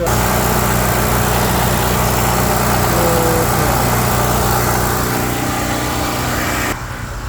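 A Westinghouse generator APU mounted on a Kenworth W900L truck runs steadily at close range, a smooth, even engine drone with a slight drop in level near the end.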